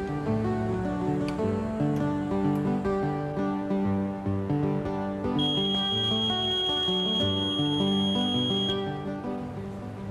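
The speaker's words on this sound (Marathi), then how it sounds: "या बीप आवाजामुळे मतदान केंद्राध्यक्षाला मतदान पूर्ण झाल्याचं कळतं." An electronic voting machine control unit gives one steady, high, continuous beep lasting a few seconds, set against background music that plays throughout.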